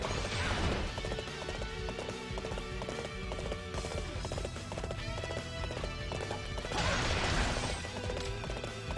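Horse hooves clip-clop at a steady trot in Dynasty Warriors 8, running under a dense, loud bed of game music and battle noise for the whole stretch.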